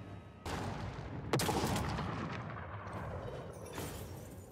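Cannons fire during a Warhammer 3 battle: a couple of sharp, booming blasts rise out of a continuous roar of battle, each followed by a long rumbling decay.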